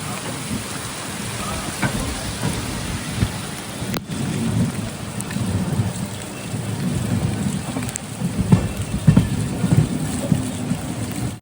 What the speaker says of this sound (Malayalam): ഇനിയിപ്പോൾ ഈ ഒരു മഴ അങ്ങ് മുംബൈ വരെ എന്തായാലും ഉണ്ടാവും കേട്ടോ